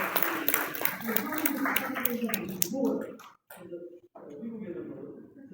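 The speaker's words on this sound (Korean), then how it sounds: "여러분 박수 한번 치시겠습니까? 박수." An audience claps at a Korean lecture event, a brisk burst of many hands for about three seconds mixed with a speaking voice, then giving way to talk alone.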